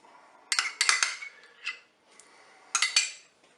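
A utensil scrapes and clinks in a Cookeo multicooker pot while diced ham and Boursin are mixed, in a few close bursts separated by short pauses.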